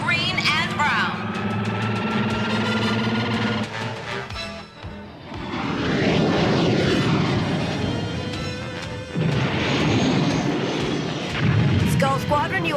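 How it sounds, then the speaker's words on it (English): Animated Veritech fighter jets launch with a rising engine whine, rumbling boosters and heavy roaring thrust that swells and fades, with voices speaking over parts of it. "All Veritech fighter groups to launching platforms."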